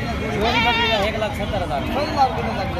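Barbari goats at a livestock market bleat in wavering, quavering cries, several overlapping calls close by, mixed with voices and crowd babble.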